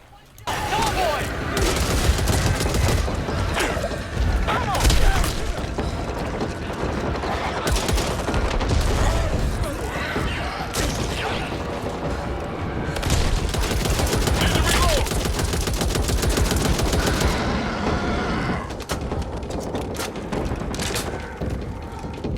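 Rapid bursts of weapon fire from a stun gun in the zombie shooter game Back 4 Blood, dense and continuous for the whole stretch, with booms and mechanical clatter layered in and a voice faintly underneath.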